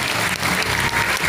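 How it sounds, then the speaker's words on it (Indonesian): A talk show audience at an entrepreneurship motivation event in Singaraja breaks into loud, continuous applause, a thick close-up roar of many clapping hands. "Tepuk tangan dulu."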